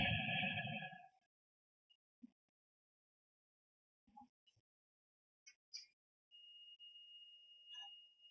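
A thin, steady electronic beep sounds faintly for about two seconds near the end, from testing a shorted SMC circuit on a dead MacBook Air board, preceded by a brief voice and scattered quiet clicks and taps in near silence.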